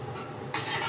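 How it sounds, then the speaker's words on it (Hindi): Onions frying in a pan are stirred with a utensil, giving a steady close sizzle with a scraping stir that grows brighter and louder partway through. "प्याज भून रही हूँ मैं अभी"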